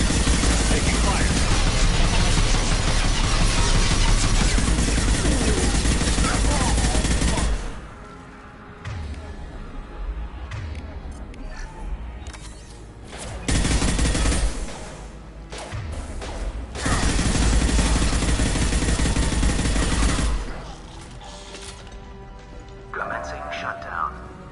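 Gunfire during a firefight in the video game Mass Effect 2, heard as long stretches of loud, dense crackling bursts with short quieter gaps between them, and voices talking over the combat.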